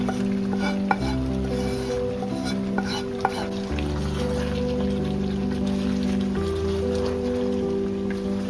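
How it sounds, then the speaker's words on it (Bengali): Spiced beef mixed with masala in a pot for bhuna, stirred steadily at close range. A soft sizzle of frying runs underneath throughout, and nobody speaks. "পুরো মাংসটাকে একসাথে অনেকখানি মাখিয়ে নিব"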